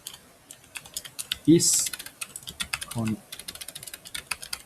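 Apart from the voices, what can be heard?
typing code on a computer keyboard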